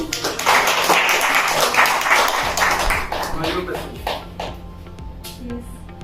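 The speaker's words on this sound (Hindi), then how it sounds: "तो एक बार जोरदार ताली फिर से" Loud applause from a classroom audience at a university topper's celebration, dense clapping that fades slightly toward the end, with voices murmuring underneath.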